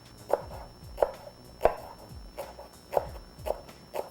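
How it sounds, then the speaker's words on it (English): Green onions (scallions), white and green parts, being chopped with a knife on a board: a slow, irregular series of crisp, close chops, about six or seven strikes with short pauses between. "Green onions that we will chop"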